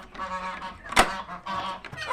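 Guinea fowl on a poultry farm call out nearby, giving harsh, honking cries in a rapid run, with one louder, abrupt squawk near the middle.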